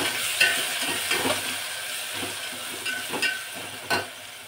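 Chopped tomato goes into masala frying in a pan for masala bhat, giving a soft continuous sizzle broken by several scraping stirs at irregular intervals, with no voices.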